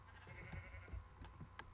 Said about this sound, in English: Oh, and there's some sheep.